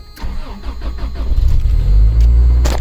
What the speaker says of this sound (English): Let me set down the camera and start it.